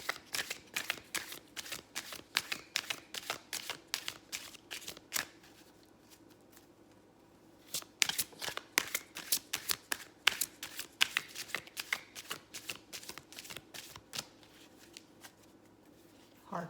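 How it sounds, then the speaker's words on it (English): Tarot cards being shuffled hard in quick bursts of crisp riffling snaps, with a brief pause in the middle before the shuffling resumes. "Hard shuffle."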